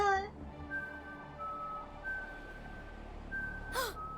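A character whistles in the adventure game Jenny LeClue, holding long steady whistled notes in a short tune, with soft game ambience and a brief gasp-like sound near the end.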